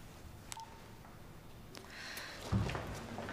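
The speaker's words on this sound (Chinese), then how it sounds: "那我马上给他打电话。" A telephone keypad being dialed: a few short, quiet tones in sequence in an otherwise hushed room.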